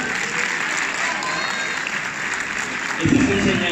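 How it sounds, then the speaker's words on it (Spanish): Loud applause from an audience at a motivational talk, a steady dense wash of clapping that swells stronger toward the end. "se va a aplaudir fuerte"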